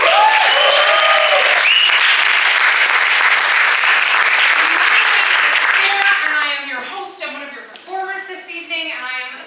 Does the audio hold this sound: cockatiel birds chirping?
no